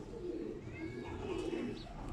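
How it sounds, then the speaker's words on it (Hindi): Almari pigeons cooing close by, soft low rolling coos repeating in a steady rhythm against quiet background noise. "असल में ये अलमारी वाले कबूतर हैं।"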